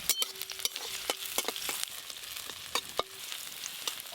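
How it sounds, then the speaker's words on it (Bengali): Chopped onions fry in mustard oil tempered with black cumin seeds, a moderate hiss of sizzling broken by sharp scraping clicks of a spatula stirring the pan. "পেঁয়াজ কুচিগুলো অর্ধেক ভাজা ভাজা হয়ে গেছে"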